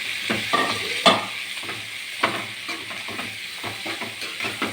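Narthangai citron pickle is stirred in a hot pan, giving a low sizzle broken by repeated scraping and clinking strokes of the spoon against the metal, close and alone.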